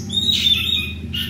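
A kacer (magpie robin) calls with a thin, high whistled note over a steady low background hum, close and fairly loud.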